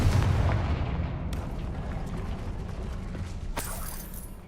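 A Confringo explosive spell bursts in the video game Hogwarts Legacy, a heavy rumbling blast that decays into noisy debris, followed by a second sharp crack near the end.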